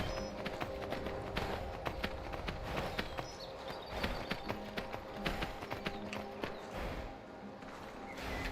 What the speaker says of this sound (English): I was just wondering why this horse was over here fighting.